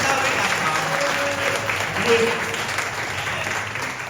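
A seminary congregation at a special worship service applauds to give glory to God, a sustained, fairly loud round of clapping from a crowd, with some voices mixed faintly into the steady wash of hands.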